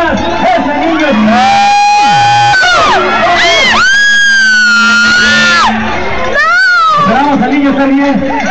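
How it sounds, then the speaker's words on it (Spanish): A lively crowd cheers, shouts and whoops loudly and continuously, with high excited voices, some sounding like children, rising and falling throughout. "Fuerte el aplauso, miren nomás."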